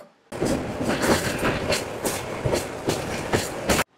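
An express train rushes past at high speed with a loud, continuous rumble and rapid rhythmic clickety-clack of wheels over rail joints.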